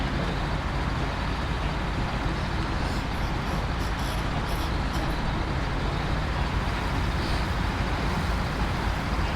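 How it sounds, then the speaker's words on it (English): A GMC truck pulling a trailer grinds through mud in the SnowRunner game, a steady, dense engine roar and churning rumble that holds at one loud level throughout, with no talking. "I don't know if the GMC can get through it with the trailer."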